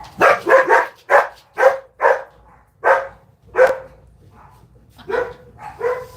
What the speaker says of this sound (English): Gina's just barking at something, so then Henry just has to bark at something.